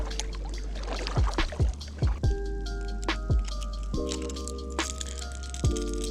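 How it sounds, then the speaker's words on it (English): A kayak is launched into a pond with a run of hard cracks, knocks and wet squishing thuds as the plastic hull shifts and settles, close and irregular, over a low steady background with no talking. "we're gonna get the kayak launched in the pond"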